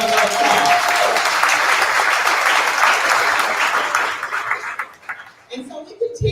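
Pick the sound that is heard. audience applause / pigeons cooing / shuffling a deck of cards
audience applause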